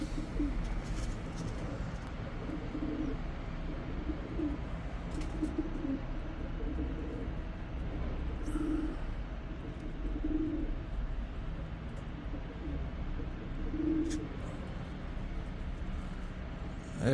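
Soft, low pigeon coos repeat every couple of seconds against a steady outdoor background hum, with a few faint chirps overhead.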